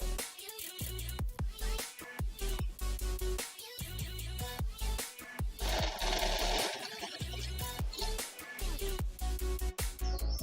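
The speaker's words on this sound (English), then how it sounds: "Now we're just gonna stitch all the way around." Sewing machine stitching around the parts of a samurai helmet in a workshop, running in repeated bursts with short pauses over about ten seconds, fairly loud and close with no talking.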